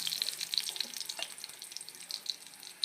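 Steady, faint, crackling sizzle of a shallow-fried chili tempering in oil for lemon rice, with small pops scattered throughout.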